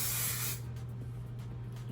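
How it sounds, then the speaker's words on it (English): A single aerosol burst of Kevin Murphy Bedroom Hair texture spray is sprayed onto curled hair: a loud close hiss for about half a second, then it stops, leaving a low background hum. "We're gonna take the texture spray. This is the Kevin Murphy bedroom hair."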